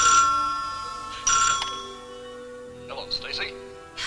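A telephone rings in short electronic bursts, three or four chirping rings with quiet gaps, heard fairly close in an indoor room, with a few faint voices murmuring near the end.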